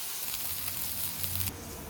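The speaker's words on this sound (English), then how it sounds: "And we're going to sear this off." Beef searing in hot olive oil in a pan, a steady bright sizzle and hiss, fairly quiet and close, with no talking.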